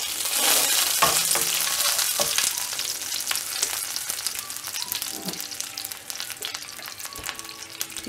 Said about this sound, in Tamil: எண்ணெய் காஞ்ச உடனே கடுகு போட்டுடலாம். கடுகு பொரிஞ்ச உடனே கருவேப்பிலை ஆட் பண்ணிடலாம்.